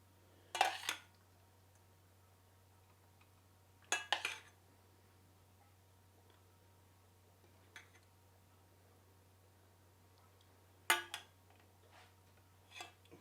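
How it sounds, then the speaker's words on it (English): A spoon clinks against a dish while warm blueberries in caramel sauce are spooned onto a stack of eggless pancakes, with a few brief, separate metallic taps spaced out over a quiet background hum. "So I'm just going to spoon on my warm blueberries."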